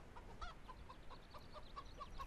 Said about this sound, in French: les poules, on en a 21, enfin avec le coq